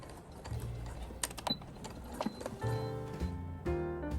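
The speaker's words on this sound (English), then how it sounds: "do a top stitch right at the side seams to secure the elastic in place permanently" A sewing machine top-stitches elastic in place at the side seams of bias-cut pants, producing uneven mechanical clicks and a rattling run of stitches that rises in the second half, close and moderately loud with no speech.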